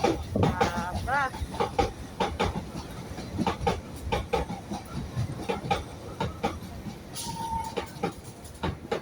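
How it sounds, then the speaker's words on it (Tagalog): A Hong Kong MTR train arriving, with rhythmic rail clatter and rumble close by and a brief hiss near the end, under scattered talk and voices. "Train is coming."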